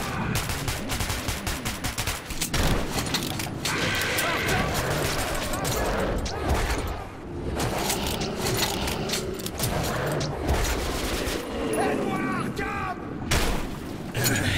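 Rapid gunfire in a video game fills the whole stretch as dense bursts of shooting and explosive booms, with people talking excitedly over the action.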